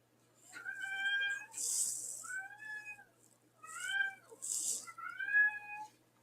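A house cat meows in four clear, drawn-out calls with short pauses between, close and fairly loud, with no talk over them.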